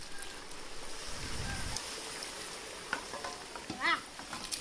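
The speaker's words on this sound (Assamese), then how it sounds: "এতিয়া ভালদৰে হেতাখন ঘূৰাই দিম যাতে সকলোতে লাগে মছলাখিনি" Spices frying in a hot pan while a spatula stirs them, giving a steady soft sizzle with brief scraping bursts and a few louder clinks near the end.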